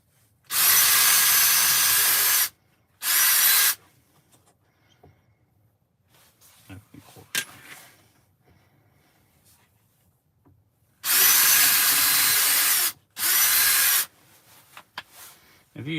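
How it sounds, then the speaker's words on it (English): A power drill whirs loudly in bursts, two long runs and two short ones, separated by quiet handling clatter and rustling. "y'all can be entertained with drilling"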